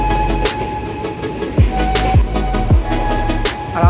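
Inside the Gour Express as it runs from Sealdah toward Bidhannagar, wheels beat out a loud, regular clickety-clack over rail joints, with a steady rumble and a faint whine underneath.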